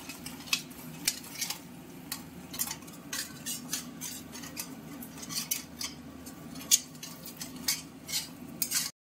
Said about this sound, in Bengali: পুরো ডিমটাকে ফেটিয়ে ভুজির মতন করে নেওয়া হবে